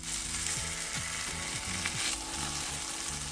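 Pumpkin pie French toast cooks in a pan with a loud, steady sizzle and crackle up close, accompanied by rhythmic scraping or clicking underneath, with no voices.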